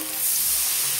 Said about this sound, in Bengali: মশলাটা কষা হয়ে গেছে, এবার আমি জল দিয়ে দেবো